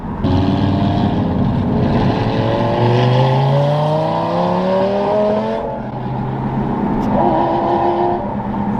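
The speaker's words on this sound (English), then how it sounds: "My car is pretty loud." A loud engine roars steadily close by, its pitch sliding up and down as it revs, with no talking over it.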